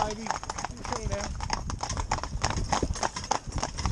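Hooves of a stallion and two geldings working in tandem clip-clop in a busy rhythm on hard ground, close by, while someone talks over them.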